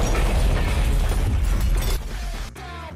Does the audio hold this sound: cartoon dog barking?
no